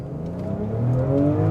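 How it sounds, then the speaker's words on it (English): A 2025 Jaguar F-Pace R-Dynamic S pulls away hard from a standstill, its combustion engine droning and rising steadily in pitch, heard loud from inside the cabin with no talking. "off the line acceleration right here"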